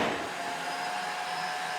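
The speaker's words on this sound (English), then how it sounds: "this is the vacuum I have, and this is the one I'm going to test." A shop vacuum runs steadily close by, a loud continuous whine with a high motor tone and airy rush, no voices over it.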